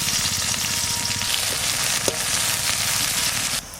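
Onions fry in leftover fish-frying oil in a wok, a dense, loud, continuous sizzle with a few sharper crackles, close by and without speech.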